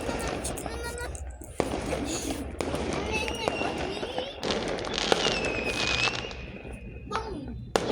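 Lunar New Year fireworks for Tet 2026 crackle and bang almost continuously, with whistling rising streaks and scattered sharp pops, loud and dense, while people talk excitedly underneath.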